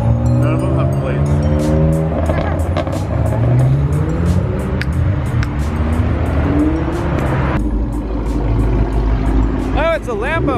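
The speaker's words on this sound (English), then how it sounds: "Oh, it's a Subaru going fast." A Subaru speeds past on a street where other cars rev loudly nearby, with engine roar rising and falling, tire noise, and a sharp drop as it passes. Excited voices talk over it.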